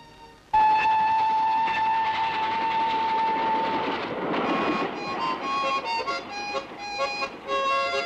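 A train packed with soldiers leaves a station, opening with a long steady whistle blast before the rumble and clatter of the moving cars takes over and keeps rolling.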